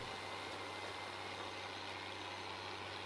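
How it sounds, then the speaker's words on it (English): A tractor engine in the Farming Simulator 19 video game hums steadily at idle, a low constant drone with a faint tonal note, with no talk over it. "Come on, tractor. Go."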